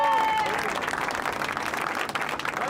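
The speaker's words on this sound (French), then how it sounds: "on les applaudit bien fort" Spectators at a motorcycle race for disabled riders applaud the competitors, a dense, continuous burst of clapping with crowd noise mixed in.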